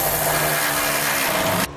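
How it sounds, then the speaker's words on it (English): A power tool tightens the bolts that hold trailer hitch side plates to the frame of a 2012 Ram 3500, a loud close steady whir that cuts off sharply near the end. Very brief and heard alone. "now we'll tighten down the bolts that hold our side plates to the frame"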